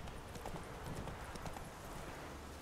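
Horse hooves clip-clopping at a steady gallop in The Witcher 3, loud, close rhythmic hoofbeats running throughout with no talk.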